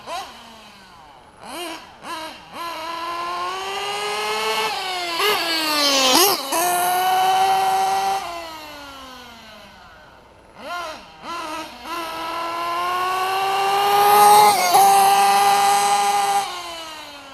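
A Nova P5 limited edition engine, running rich while warming up after break-in, buzzes and whines through repeated throttle blips and sustained high revs, rising and falling in two long loud bursts separated by a brief drop to idle.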